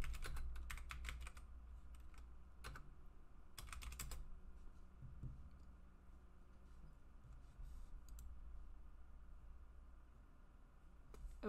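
Rapid bursts of computer keyboard typing while entering a search term in a design program, quick clustered key clicks early on, then sparser taps over a low steady room hum, with no talking.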